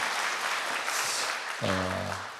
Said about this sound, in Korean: 우리 박수로 우리 다시 한번 정리하겠습니다